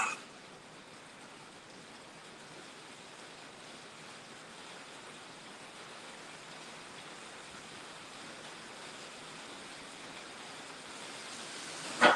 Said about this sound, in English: And the rain begins, folks.